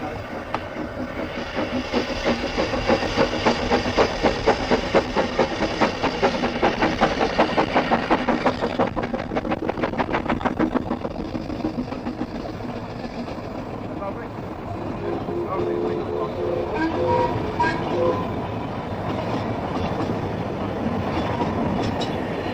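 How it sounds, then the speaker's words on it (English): Double Fairlie steam locomotive Merddin Emrys on the narrow-gauge Ffestiniog Railway in Gwynedd: a rumbling train with clickety-clack wheel rhythm passes, loudest in the first half, then recedes, with someone narrating over it. "The arrival of the second double fairlie clears the single-track line, and Merthin Emrys continues its downward journey to Porthmadog."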